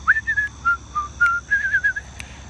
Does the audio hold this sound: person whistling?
yes